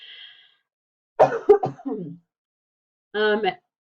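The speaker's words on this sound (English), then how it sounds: "Just a quick cough there." A single close cough with a short throat-clearing rasp, followed by a brief voiced sound after a pause, in an otherwise quiet room.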